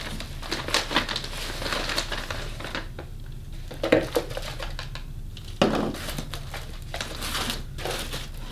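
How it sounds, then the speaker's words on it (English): Burpee organic potting soil scooped into a container, heard as close crinkling, rustling and gritty scraping with a few louder scoop thuds, no voices. "So the potting soil I'm using is just a Burpee organic mix. And I'm gonna put a couple scoops in here."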